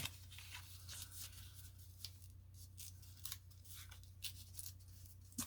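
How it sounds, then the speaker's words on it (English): Paper is torn by hand along a fold: faint, crisp ripping and rustling bursts in an irregular series, close but very quiet over a low background hum. "fold and hope I can tear. So I'm not looking for a cut edge here."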